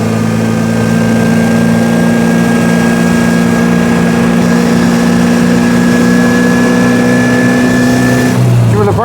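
A 1924 Austin Seven's small vintage engine drones steadily and loud throughout while driving in second gear, a sustained mechanical hum that shifts slightly near the end.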